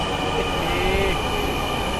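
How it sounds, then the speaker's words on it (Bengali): A metro train pulls into an underground station platform, a steady mechanical rumble and hum filling the space with a faint brief squeal of wheels partway through, with no talk over it. "ওই যে আমাদের চমালক্য ট্রেন চলে আসছে"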